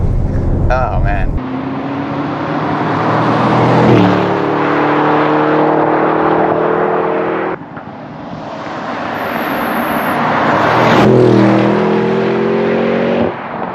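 A 2025 Audi RSQ8 Performance SUV accelerates hard from inside the cabin, its engine note climbing in loud rising sweeps broken by quick gear shifts, with wind and road roar underneath.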